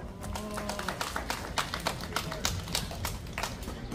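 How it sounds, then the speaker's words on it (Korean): An outdoor crowd at a street march claps for a student, a steady patter of many hands with scattered sharper claps, moderately loud and continuous throughout. "우리 학생으로 해서 박수 한번 힘차게 보내주시기 바랍니다."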